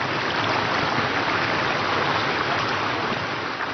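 Water rushes steadily through a wooden sluice used for traditional gold panning in a high mountain village in Georgia, a continuous dense, close flow with no pauses and no voices.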